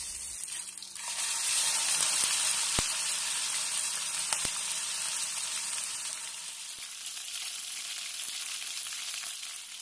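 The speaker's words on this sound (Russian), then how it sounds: "В глубокую сковороду наливаю немного оливкового масла и поджариваю корейку до золотистого цвета с каждой стороны." Pork loin fries in olive oil in a deep pan, giving a steady, close sizzle that runs unbroken with no voices.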